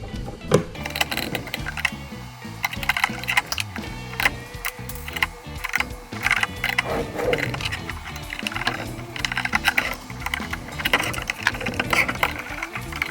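Remaining screws are driven into the top plate of a WizFPV Copia drone frame, giving repeated short mechanical whirring and ratcheting bursts close up, with no talking.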